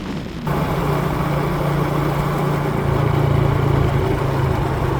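A vehicle engine drones steadily and continuously while riding along a road in Laos, a loud, even hum close to the listener with no voices over it.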